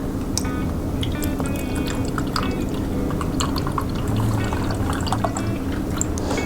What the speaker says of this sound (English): pour our pineapple juice into our measuring cup to make sure it's exactly 1/2 of a cup